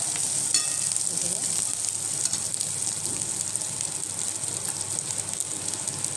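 Ginger-garlic paste sautés in hot oil for a cluster bean and poppy seed vegetable dish, a continuous close crackling sizzle with a few faint stirring clicks and no talking.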